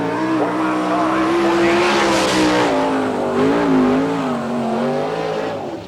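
Sprint cars roar around Bechtelsville Speedway at an All Star Circuit of Champions King of the Hill night, loud engines droning and shifting pitch as the cars pass close by, continuous throughout.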